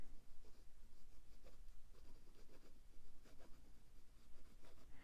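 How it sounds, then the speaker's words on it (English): Close, scratchy strokes of a Pelikan M805 fountain pen nib writing upside down on paper, with quick rhythmic scrapes and taps and no voice. "Reverse writing, you can definitely get to an extra fine."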